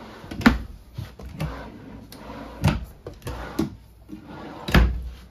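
Drawers and cabinet doors in the kitchen of a 2022 Forest River Surveyor 252RBLE travel trailer opening and closing, several sharp wooden knocks and slides spaced irregularly over a few seconds, close and fairly loud, with no talking.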